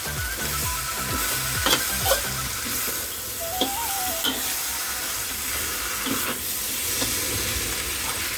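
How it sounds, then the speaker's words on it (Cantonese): Lamb brisket stir-fried in sauce in a pot over low heat, a steady hissing sizzle with occasional spatula scrapes and clacks against the pot, close and continuous with no talking. "好，嗰個羊腩落埋去，兜佢兩兜先。"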